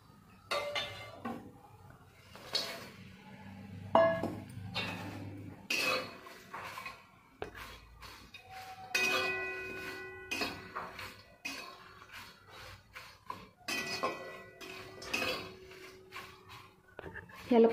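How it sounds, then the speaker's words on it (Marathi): Stone flower spice is roasted in a little oil in a pan, with intermittent clinks and scrapes of a utensil against metal and a soft sizzle, while someone talks over much of it. "असंच थोडं तेल टाकून हे दगडी फूल भाजून घेणार आहे."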